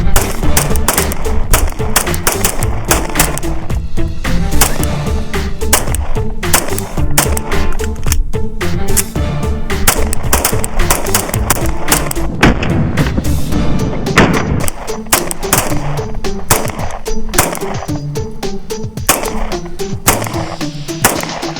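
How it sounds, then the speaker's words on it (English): Rapid 9mm handgun shots fired at a computer power supply, a dense loud stream of sharp cracks and impacts lasting the whole stretch with no pauses and no talking. "Expect to hear a lot of bullets flying at this PSU."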